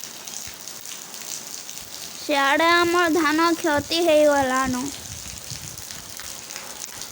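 Steady rain falls outdoors over a paddy-growing area, making a continuous, even patter and hiss throughout, with a person briefly speaking over it midway.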